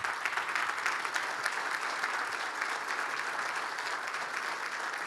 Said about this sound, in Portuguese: E eu queria pedir uma salva de palmas para o Dr.